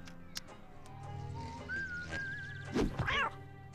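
Cartoonish cat meows from a homemade cat magnet, a rising whistle-like cry near the middle followed by a louder, wavering meow toward the end, heard alone at moderate level.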